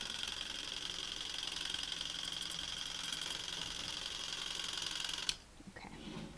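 An electric sharpening stone's motor runs with a steady, even whir for several seconds, then cuts off abruptly near the end, leaving faint room noise.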